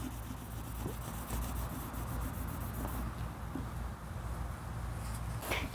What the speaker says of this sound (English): it's actually pretty tough cleaning the skin off